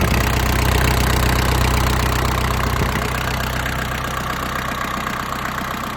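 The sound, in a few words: Kubota Saturn X-20 mini tractor engine idling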